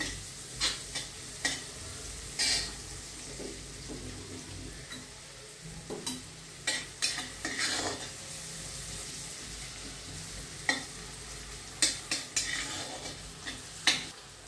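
Chopped onions sautéing in a pan for misal, with steady frying sizzle and repeated scraping stirs of a spoon against the pan throughout, close and fairly loud, no voices.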